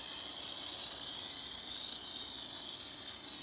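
Mr. Sprayer Foamer pump sprayer foaming Diablo Wheel Gel onto a tire and wheel, a steady close airy hiss holding evenly throughout with no pauses or voices.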